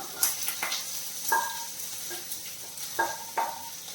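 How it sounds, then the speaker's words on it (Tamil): Onions frying in a pan for Tamil-style egg curry, a steady soft sizzle with a few clinks and scrapes of stirring, close and without talk. "சேர்த்து நல்லா வதக்கிக்கலாம் வெங்காயம் வந்து நல்லா வதக்கட்டும்"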